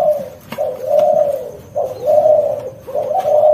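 A pet dove or pigeon kept for sale coos in three slow, drawn-out phrases with short gaps between them, close by and fairly loud, with no voices.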